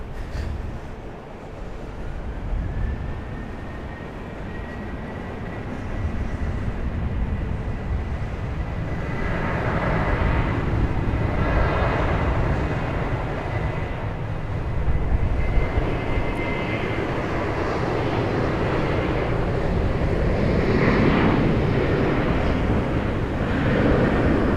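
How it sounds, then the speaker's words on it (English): Delta Boeing 737 jet at Raleigh-Durham International Airport, a steady broad engine roar that slowly builds and swells over the whole span, moderately close with no talk. "Alright, our Delta 737. Will it use most of the runway?"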